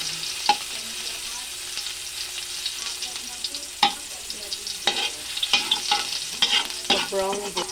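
Garlic sautéing in a pan for sticky rice, with steady frying sizzle and occasional sharp stirring scrapes and clinks, close and fairly loud throughout with no talking.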